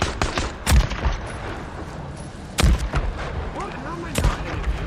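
Sniper gunfire in the video game Days Gone, a few sharp, loud shots spaced apart, one early, one near the middle and one late, over an ongoing game soundscape.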